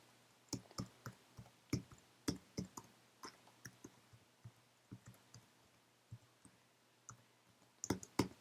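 Keys clicking on a computer keyboard as letters of the alphabet are typed one by one, an irregular run of sharp close taps with a quick flurry near the end, alone in a quiet room.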